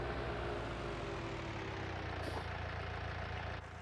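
Tractor engine in Farming Simulator 19 running steadily at idle, a low continuous rumble that holds even throughout, with a brief faint click partway and a slight drop near the end.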